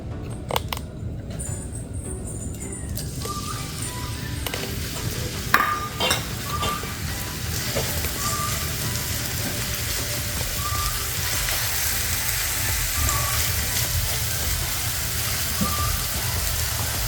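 A ground paste being sautéed in hot oil in a pan, a continuous close sizzle with occasional spoon scrapes and soft metallic taps throughout.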